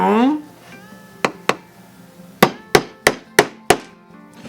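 A hammer drives nails, giving seven sharp, loud strikes, two early and then a quicker run of five spaced close together. A short voice-like sound comes just before the blows.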